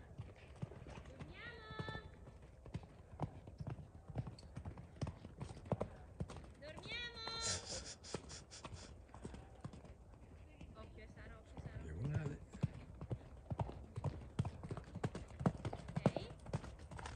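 Horses clip-clop along steadily across the whole span, hooves striking in an irregular rhythm under frequent talk, with a couple of brief whinny-like calls.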